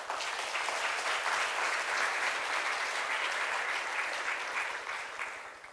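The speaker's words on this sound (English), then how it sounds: "Please clap for him." Sustained applause from a large crowd, dense and steady clapping that holds throughout and tapers slightly at the end.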